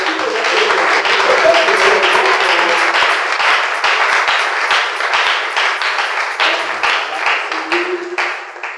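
A church congregation claps and cheers in sustained, dense applause that fills the room, with voices mixed in throughout and a gradual fade near the end.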